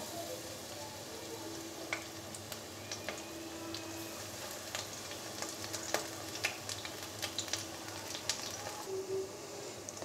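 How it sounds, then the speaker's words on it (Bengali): Cauliflower and potato pakoras fry in oil in a pan, a quiet steady bubbling sizzle with scattered sharp pops and crackles throughout. "আমি পকোড়াগুলোকে উল্টে পাল্টে ভেজে নিয়েছি।"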